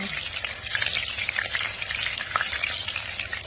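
Bean sprouts stir-fried in a pan sizzle loudly and steadily, with crackling spatters and the scrape of stirring throughout.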